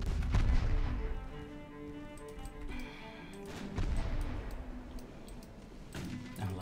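Naval gunfire in the warship strategy game Ultimate Admiral Dreadnoughts: a heavy boom opens, then rolling, rumbling cannon blasts and distant explosions layer over a sustained tonal music bed, loud and continuous throughout.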